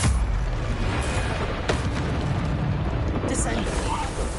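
Magical blast from the Bombarda spell in Hogwarts Legacy on PS5, a dense roaring eruption that fills the whole clip at steady loudness, with a streamer's voice mixed in.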